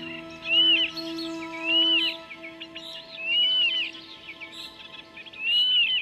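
A young bird in late-summer water meadows gives a cry of triumph: four rising chirps repeated at a steady pace, each clear and fairly close, over a constant low tonal hum.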